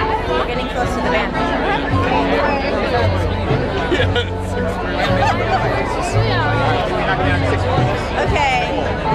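Dense crowd chatter at an outdoor Thai food festival, a steady hubbub of many overlapping voices nearby with no single voice standing out.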